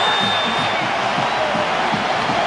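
A stadium crowd at a Nebraska Memorial Stadium college football game against USC roars in a broad, sustained wash of cheering, steady and loud for the whole moment without clear individual voices.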